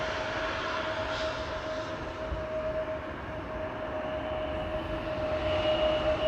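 Embraer 175 airliner at Amsterdam Schiphol Airport, a broad steady jet engine roar with a faint whining tone, moderately loud and gradually swelling toward the end, no voices.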